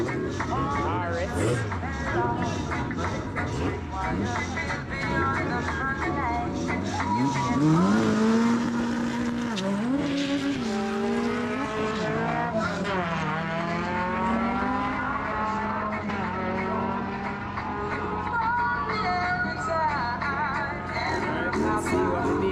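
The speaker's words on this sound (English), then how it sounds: "That sounds like a B series turbo versus a Honda Fit." Drag race at a strip between a B series turbo car and a Honda Fit RS, engines droning and revving steadily with rising and falling pitch sweeps, loud and continuous throughout, with a voice talking over the racing noise.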